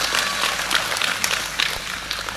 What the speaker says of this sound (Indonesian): tepuk sing banter gak usah sungkan